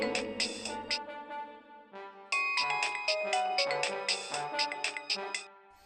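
A mobile phone ringtone plays a bright, repeating chiming melody of quick bell-like notes, steady and clear, with no voices over it.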